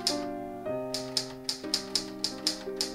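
A vintage typewriter struck in a quick, fairly even run of crisp mechanical clacks, close and loud, over a lingering ringing hum in the room.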